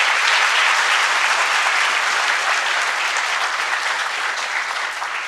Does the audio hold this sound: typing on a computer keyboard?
no